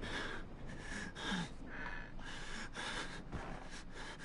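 Heavy, ragged breathing of a player character in the horror game Outlast, with repeated gasping, snorting breaths in an uneven rhythm, close and fairly quiet, with no talk.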